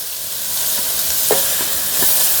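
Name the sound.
chopped cabbage stir-frying in pan for hakka noodles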